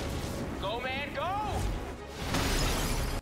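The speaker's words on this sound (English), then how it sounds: "Making all the glass shatter in the process." Glass shattering in a superhero TV episode, a crashing burst of breaking glass with whooshing effects, heard under voices and background action.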